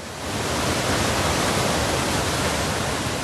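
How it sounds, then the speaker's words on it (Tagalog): A swollen river in Buldon, Maguindanao del Norte, running high after heavy monsoon rain, gives off a steady, dense roar of rushing water. It is loud and unbroken, with no voices. "Rumaragasa ang tubig sa ilog na ito sa Buldon, Maguindanao del Norte kaninang umaga."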